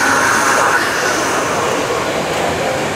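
A comic convention audience imitates the wind whistling through a ship's rigging, a loud, sustained breathy roar of many voices blowing and hissing together without pause.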